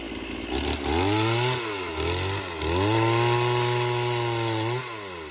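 A chainsaw roars close by while cutting lychee tree branches, its engine pitch rising and dipping as it bites into wood in several pushes, loud and continuous.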